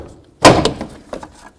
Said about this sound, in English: We're going to come right down along the bottom of the door panel and try to break it free.